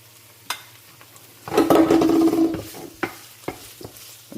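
Cauliflower masala being stirred while it fries in oil in a pan, with a few short scrapes, one longer burst of stirring and a soft sizzle underneath.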